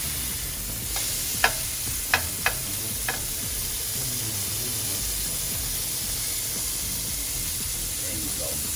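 Turkey burger patties fry in a pan with a constant loud sizzle and hiss, broken by a few sharp clinks of a spatula as they are flipped, while a person talks faintly.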